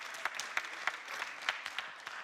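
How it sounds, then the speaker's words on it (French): A French studio audience applauds for Ouest France readers, scattered, moderately quiet clapping with a few sharper individual claps standing out, lasting a couple of seconds. "on peut applaudir les fans de Ouest France"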